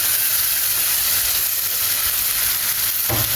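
Prawns sizzle loudly in a hot pan with garlic paste and a splash of water, a steady broadband frying hiss throughout, with a brief stir-like clatter near the end.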